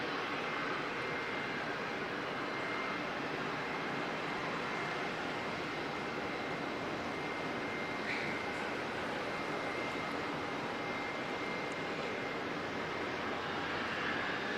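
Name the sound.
Saab aircraft engine noise at Auckland Airport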